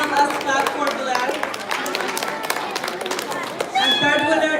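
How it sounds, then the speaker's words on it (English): An audience at an Islamic school's last-day celebration claps for a winner, a spatter of close hand claps mixed with chatter and a speaking voice. "Please help us clap for Bilal."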